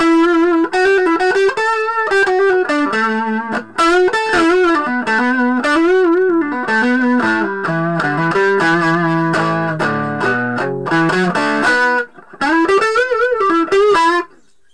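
An electric guitar runs through a Vox VBM1 Brian May Special treble booster, driving the amp into loud distortion. It plays a continuous melodic line of sustained notes and short phrases with no talking.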